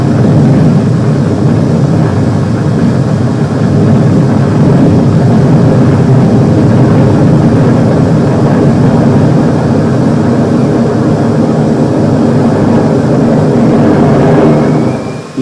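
World War II bombers in flight near Rabaul, their heavy piston engines droning in a loud, steady, low roar that holds for about fifteen seconds with no talk.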